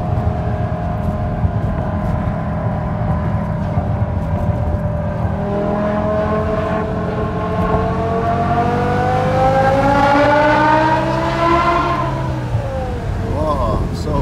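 A BMW E60 M5 engine screams through a high rev, its pitch climbing steadily then sweeping back down near the end, loud and close with a voice exclaiming over it.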